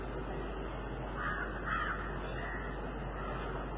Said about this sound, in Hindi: पक्षियों की आवाज है